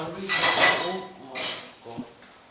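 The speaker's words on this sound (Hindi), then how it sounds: "इधर हलचल हुई है नाज़रीन, जैसे बर्तन हिले हैं।" Kitchen utensils rattle in a home kitchen, a few brief clinking metallic jostles spread over a couple of seconds, with a voice speaking faintly beneath.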